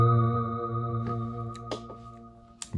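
Kurzweil K2000 synthesizer playing its Neo Bell preset, a sustained bell-like tone with steady layered harmonics, plus a few soft struck accents over nearly three seconds, fairly close and alone.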